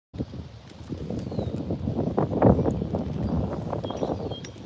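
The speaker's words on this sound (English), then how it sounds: "It's windy," Steady wind noise buffeting the microphone, a continuous rushing roar that swells slightly midway, with faint high whistles above it.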